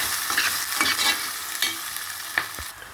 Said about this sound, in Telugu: ఇందులో బాగా ఫ్రై చేసేసుకోవాలి